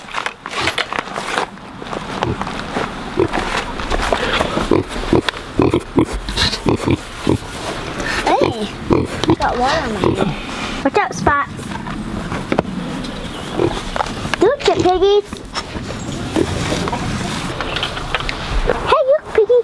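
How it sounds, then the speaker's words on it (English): Pasture-raised pigs on a farm grunt and oink on a cold day as they come running in, with repeated snorts and squeals close by over a rough, noisy outdoor background. "let's go see the pigs"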